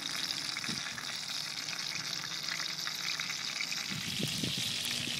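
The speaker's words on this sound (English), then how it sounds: "We're just searing it, locking in the flavor, locking in the juices" Beer sausages sizzle and crackle steadily while searing in a pan on an outdoor grill by a river, a constant frying hiss with a few faint knocks and clinks.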